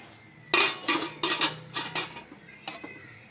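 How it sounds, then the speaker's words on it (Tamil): A metal plate is set into an idli steamer pot with water, clanking and scraping in a series of sharp, close clatters, with a few quieter knocks trailing off at the end. "நான் வந்து தண்ணி வச்சுட்டு அதில் ஒரு பிளேட்டை வச்சிடுறேன்"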